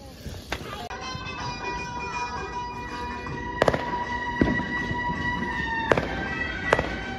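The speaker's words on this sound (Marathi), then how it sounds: "तर गाईज न्यू इयरचे फटाके" New Year 2025 party fireworks and firecrackers going off as a string of sharp bangs and crackles, about six distinct blasts, loud over steady background music and some voices.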